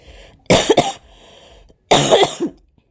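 Two separate bursts of coughing a second or so apart, each a short cluster of harsh, close coughs with quiet in between.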